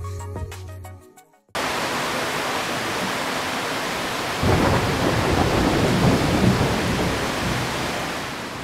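After a brief snippet of another sound, heavy rain pours steadily in Puerto Rico while thunder rumbles and swells louder midway through.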